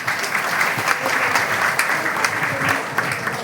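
An audience at a women's wellness session claps in a dense, steady burst of applause that lasts a few seconds, with faint voices underneath.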